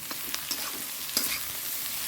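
Potatoes fry with onion and green chilli in a hot pan, a steady close sizzle broken by light scraping strokes as they are stirred.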